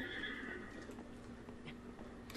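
A horse in Breath of the Wild whinnies near the start, a clear high neigh over faint ambient game sound, with some soft hoof clopping after it.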